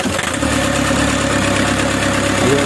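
A Toyota Hiace that would not start catches after an RC1 treatment and settles into a loud, steady idle, a close rhythmic mid-pitched engine chug running throughout.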